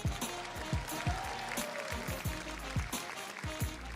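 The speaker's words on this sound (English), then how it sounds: "Please give a round of applause for our labor community." Audience at the New York State of the State address applauding labor leaders, quiet, sparse and uneven claps heard from a distance in a large hall.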